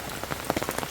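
Rain patters steadily on surfaces during a storm in El Salvador, a dense close hiss of drops with small irregular splats throughout.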